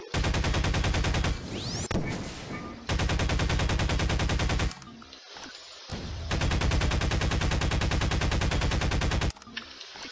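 Sustained automatic gunfire aimed at car wheels in Garry's Mod, with Mafia 1 cars as targets: loud, rapid, evenly spaced shots in long unbroken bursts, separated by short pauses filled with duller impacts.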